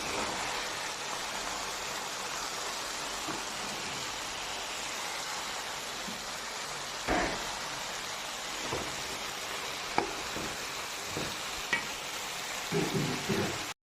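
Chicken curry with tomato and green chilli is stirred in a pan over a constant hissing sizzle, with occasional scrapes and taps of the spoon against the pan, and no talking.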